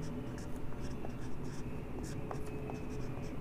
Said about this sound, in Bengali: আমি একটু লাল কালি দিয়ে লিখবো অবভিয়াসলি